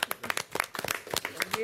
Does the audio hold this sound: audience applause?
yes